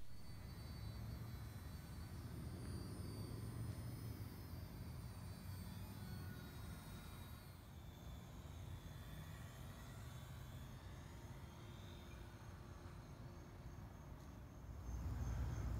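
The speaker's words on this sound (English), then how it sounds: "So we'll give it for a test flight, see how it works." A Guillows Aeronca balsa model converted to radio control flies a test flight outdoors, its small electric motor a steady distant drone under broad wind and background hiss, swelling louder near the end.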